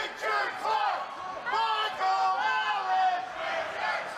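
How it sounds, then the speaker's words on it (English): Wrestling fans at an HIW Pile 'o' Bones Rumble 2018 event yell and cheer in loud bursts, a roaring crowd with rising and falling whoops filling the arena. "The fans cheering"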